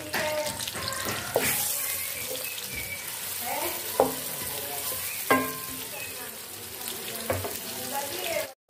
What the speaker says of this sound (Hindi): अब इसमें हम प्याज डालेंगे और इसको हम फ्राई कर लेंगे प्याज को